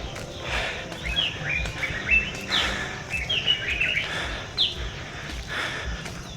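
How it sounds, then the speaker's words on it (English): Birds chirping and singing among trees on Mbuya Hill in Kampala, repeated bright short calls from several birds over a quiet outdoor background, no talk. "The environment is quiet, and you can, hear the bird sounds. Let's take a moment and you listen to the bird sounds"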